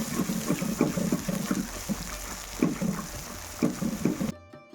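Water splashes and trickles into a pan of ground masala tempering for a mutter mushroom curry. The pouring comes close-up in uneven bursts, then stops abruptly near the end.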